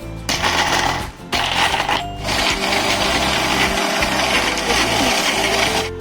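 A mixer runs at high speed, whipping coffee, sugar and ice with a dense, loud whirring drone and rattling grit that briefly dips and then resumes.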